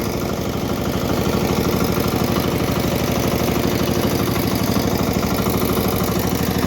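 A Kentavr 10D mini tractor's diesel engine runs steadily and close by, its rapid even chugging holding a constant loud level with no talk over it.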